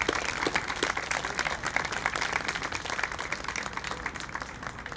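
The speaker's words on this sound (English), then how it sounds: "join us in a big round of applause and thanking all of our veterans for their sacrifice" A crowd at a Veterans Day festival applauds the veterans in a sustained, even round of clapping that carries on steadily for several seconds without letting up.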